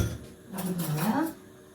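A metal spoon clinks and scrapes against pots and dishes while basmati rice is being prepared, a short close rattle of utensils with someone speaking over it.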